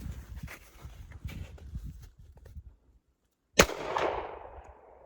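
A single loud, sharp shot from a larger-caliber gun at an outdoor shooting range rings out with a decaying tail, following several seconds of soft handling clatter and a brief silence.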